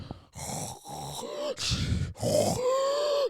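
A voice imitates a person snoring, producing several drawn-out rasping grunts and groans in an irregular rhythm, close and fairly loud.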